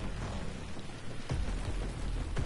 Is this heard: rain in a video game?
yes